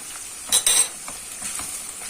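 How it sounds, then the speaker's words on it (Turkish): Onions fried in butter with a spoonful of tomato paste added, giving a steady soft sizzle with two brief louder bursts of stirring scrapes near the start, close by with no talk. "Salçanın kokusu çıkıncaya kadar biraz kavuracağım."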